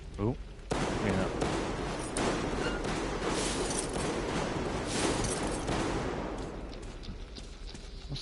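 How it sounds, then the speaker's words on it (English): Rapid full-auto shotgun fire in Metro Exodus, a sustained, loud roar of overlapping blasts close to the listener, easing off toward the end. "Sounds like a full auto shotgun going off in my ear."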